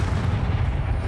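A Confringo fire spell cast in Hogwarts Legacy bursts in a dense, booming blast with a heavy low rumble held through the whole brief moment, close and loud.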